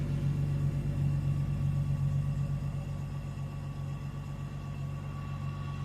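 A BMW E46 with a GM automatic transmission swapped in idles on jack stands, a steady low engine hum with a faint whine, constant and close.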